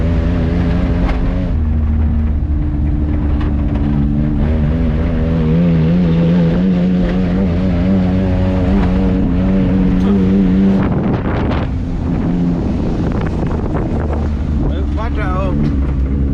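Three-cylinder Mitsubishi Japanese mini truck exhaust while driving, a loud steady engine drone with shifting pitch and heavy wind buffeting, close to the microphone, with voices talking over it.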